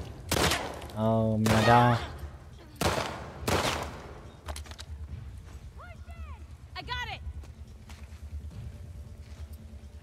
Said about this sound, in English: Shot from all different directions.